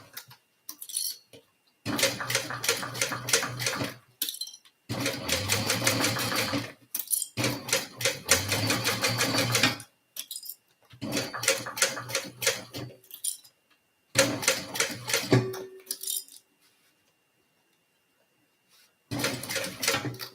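Sewing machine running a back stitch on a HexaTote bag project, in several bursts of rapid mechanical stitching separated by short pauses, close and fairly loud.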